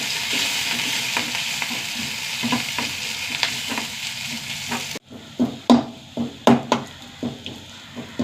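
Sliced shallots and curry leaves frying in a pan, with a strong steady sizzle and repeated spoon scrapes. Halfway through the hiss drops away and sharp, loud knocks and scrapes of stirring take over.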